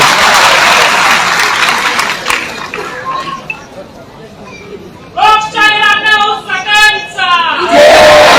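Applause and cheering from a crowd at a public memorial inauguration event in Nashik, honoring Girish Mahajan, rising loud in the opening seconds, then dipping beneath talk before returning in bursts, with people speaking over it.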